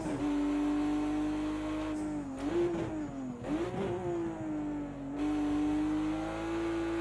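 BMW 1M Coupe race car in Project CARS 2 at Bathurst, its engine droning steadily at high revs, dipping and surging as it brakes, shifts down to second and accelerates out of a corner, loud and continuous with no talk.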